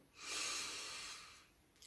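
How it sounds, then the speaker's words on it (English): A single deep, drawn-out inhale during a guided breathwork session for easing anxiety, breathy and close, swelling quickly and then tapering off over about a second and a half, with no talking over it. "I am breathing in strength as you inhale"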